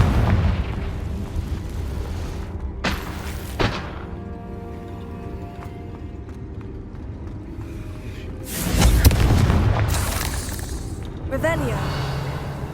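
Confringo blasting spell in Hogwarts Legacy, a low rumbling explosion and bursts of crackling impact over steady game ambience, with a brief spell cast earlier and spoken incantations over the effects.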